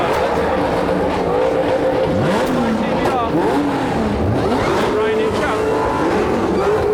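Supercars at Beaulieu Supercar Weekend, including a Lamborghini, Jaguar, Ferrari and Mustang, rev hard one after another. Loud, rising and falling engine notes sweep up and down over a constant roar, with a crowd and voices in the background.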